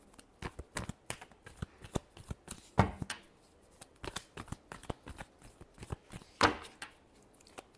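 Tarot cards being shuffled by hand, a steady run of soft riffling taps and flutters close up, with a couple of louder snapping bursts as the deck is squared.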